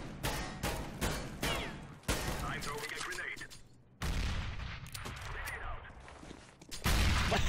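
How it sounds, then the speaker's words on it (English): Gunfire in the CS:GO video game during a competitive match, with several sharp, loud shot onsets and bursts spread through the clip, close and dense, among other game sounds and some voice chatter. "Where are you shooting?"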